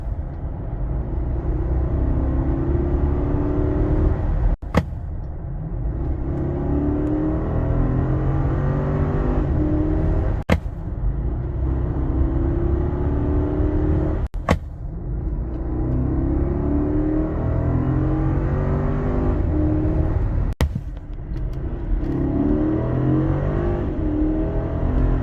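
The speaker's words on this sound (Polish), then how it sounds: "tylko ciągła moc przyspieszania, ale pierwszy kickdown jest dość wolny" A Maybach GLS 600 4.0 V8 engine accelerates hard under kickdown with a continuous deep roar, building steadily, with brief gear-change breaks every few seconds, heard from inside the cabin.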